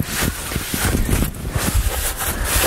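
Aerosol brake cleaner hisses continuously from the can onto a brake disc on a Land Rover Defender TD5, a close, loud, windy spray with uneven pulses and no talking.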